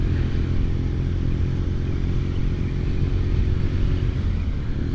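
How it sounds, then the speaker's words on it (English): A BMW R nineT motorcycle with a 1200 cc boxer engine runs steadily at idle, a low, constant, close rumbling throb with no talk over it. "The engine is the 1200 variant of the BMW Boxer Ranger, and it's got loads of oomph."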